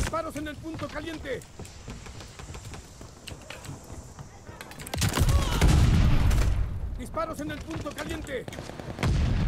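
Gunfire from Call of Duty Vanguard, a video game firefight, with shots bursting around a loud dense stretch in the middle while speech and other game sounds run before and after.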